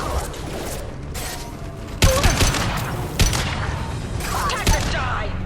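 Heavy gunfire in the Mass Effect 2 shooter, a steady rattling fusillade with sharper loud shots punching through around the second and third seconds, plus mechanical clanks, all close and intense.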